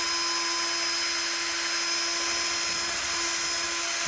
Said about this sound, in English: I have my drill on low speed because you don't want to overtax the motor